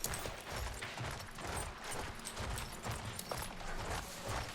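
Rhythmic hoofbeats of a galloping horse in the video game Battlefield 1, fast and steady, with some clattering game sound effects mixed in.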